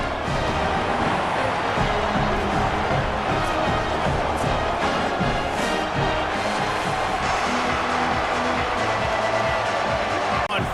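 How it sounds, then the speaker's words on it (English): Dense, steady stadium crowd roar in a College Football 27 video game, a college football game with the home crowd getting loud as the kicker lines up a fourth-down field goal; constant wash of cheering with no pauses. "This crowd trying to do its part to get inside the kicker's head"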